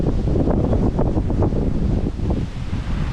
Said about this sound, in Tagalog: doon malakas yung hangin